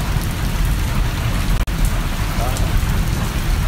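Heavy monsoon rain pours down on a stormy day in Himachal, a loud, dense, steady hiss of drops on surfaces with a brief dropout near the middle.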